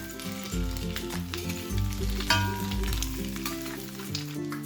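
Eggs frying in oil on a flat iron tawa for anda tawa masala, a steady, soft sizzle with occasional spatula scrapes and pops, close and continuous without any voices.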